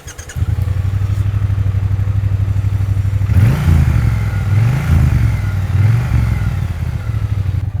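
A Triumph Bonneville T120 motorcycle engine idles with a deep, dense, low pulsing thump, then is revved in several rising and falling bursts before settling back, loud and close.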